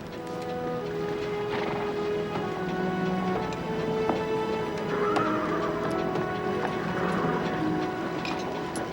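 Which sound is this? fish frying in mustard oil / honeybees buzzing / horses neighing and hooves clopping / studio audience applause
horses neighing and hooves clopping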